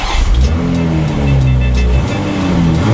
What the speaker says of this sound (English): I'm going to start it up in normal mode, and then I'm going to put it in sport mode and give it a few revs